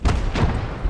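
Deep booming blasts like mines going off in the World War II tank game Blood Red Snow, two or three quick heavy thuds rumbling close together within a second.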